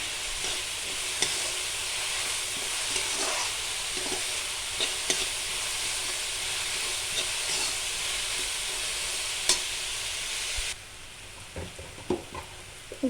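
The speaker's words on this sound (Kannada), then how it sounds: "ಚೆನ್ನಾಗಿ ಫ್ರೈ ಮಾಡ್ಕೊಳ್ಳೋಣ ಇದನ್ನು" Chopped onions fry in a pan for a tomato gojju, a constant close sizzle with occasional stirring scrapes and clicks that drops noticeably quieter near the end.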